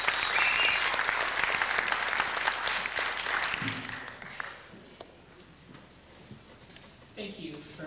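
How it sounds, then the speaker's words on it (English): Audience at a folk festival applauds loudly and densely for several seconds, then the clapping fades away, leaving quieter room sound with a few scattered sounds and brief talk. "please give them a big round of applause"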